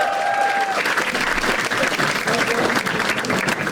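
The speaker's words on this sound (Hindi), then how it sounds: "ताली बजाओ" Audience at a stand-up comedy show clapping and cheering, a dense, steady burst of applause heard close and loud, with no talk over it.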